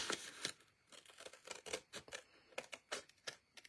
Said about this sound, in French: Alors je termine avec les ciseaux.